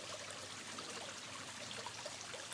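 Water flows and trickles steadily nearby, a soft continuous stream with faint bubbling detail, quiet and unbroken with no voices.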